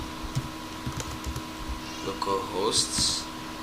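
Keys clatter on a computer keyboard in a short run of light clicks, heard close against a steady electrical hum, with a voice talking over part of it.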